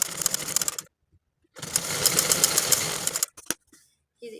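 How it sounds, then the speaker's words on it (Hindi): A sewing machine stitches a straight side seam on baby shorts in two close, steady mechanical runs, about one second and then nearly two seconds long, separated by short pauses and light handling clicks. "यहाँ से सीधी सिलाई कर देंगे"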